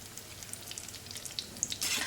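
Vada deep-frying in hot oil sizzles softly with a faint bubbling crackle and scattered pops, quiet at first and swelling briefly louder near the end.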